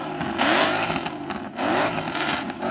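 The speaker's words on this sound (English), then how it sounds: "Let's rev them all together in one big symphony of American muscle car V8-ness" Several American muscle cars with V8 engines revving together, a loud, close, rough roar that surges twice in overlapping bursts, with no talking.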